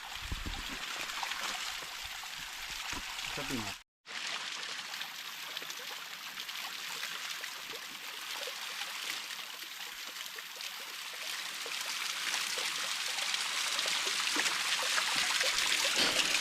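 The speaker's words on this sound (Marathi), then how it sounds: "वरनं झऱ्याचा झिरपून येतो तो पाणी आहे" Steady, soft trickling of cold spring water down rocks at Raghuvir Ghat in the Sahyadri mountains runs continuously for the whole stretch, broken by a brief dropout early on, with no voices.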